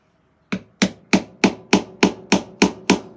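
Hammer tapping into a wooden piece to start a hole for an eye hook, in place of drilling: nine sharp, evenly spaced knocks, close and loud, with nothing else heard.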